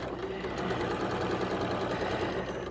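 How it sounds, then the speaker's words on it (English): A serger overlocks the raw edge of fabric, a loud continuous rapid mechanical whir with steady stitching rhythm, close and uninterrupted throughout. "I'm going to serge the raw edge just to you know, prevent it from fraying"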